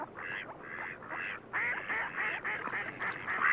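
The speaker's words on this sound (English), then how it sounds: "Mallards court during migration, and by early spring, most pairs are already established." Mallard ducks quack repeatedly on a marsh, a steady series of nasal calls in quick bursts, fairly close and growing busier toward the end, with no talking.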